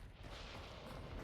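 A deep, continuous rumble of thunder in the game Hunt: Showdown 1896, with crackling texture, rolls on steadily, loud and broad with no distinct onset.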